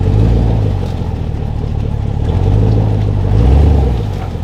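A vehicle engine idles and rumbles steadily at low speed while backing up beside an off-grid cabin, close and loud with slight swells in revs.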